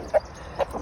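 Chickens in a chicken tractor give two short, close clucks about half a second apart over quiet outdoor background.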